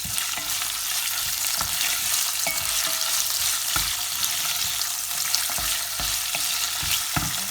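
Prawns fry in a pot for a sweet and tangy coconut prawn curry with a steady, close sizzle, broken by occasional stirring knocks against the pot, with no talking.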